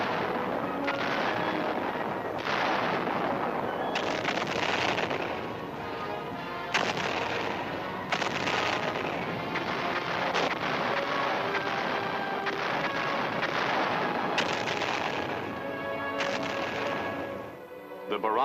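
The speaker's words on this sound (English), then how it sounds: "hundreds of thousands of artillery and mortar shells hit the island" Artillery and mortar barrage on Quemoy island, with dense, continuous loud booms and blasts overlapping for the whole stretch, punctuated by heavier bursts every few seconds.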